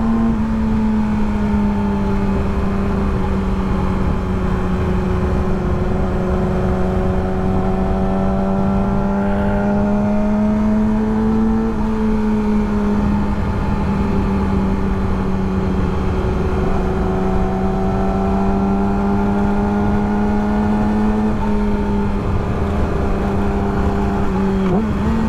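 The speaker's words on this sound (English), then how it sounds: "I wonder if my bike is loud as hell in their ear or not" A motorcycle engine drones loudly and continuously while riding in traffic, a steady close-up engine note that rises and falls slightly in pitch as the throttle changes, with wind noise underneath and no talking.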